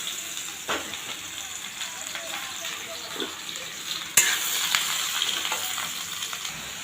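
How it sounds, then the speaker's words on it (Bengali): Ridge gourd pieces frying in hot oil in a wok, giving a constant bright sizzle with occasional stirring scrapes and one sharp clack of utensil against metal partway through. "ঝিঙেগুলো ভেজে নেব।"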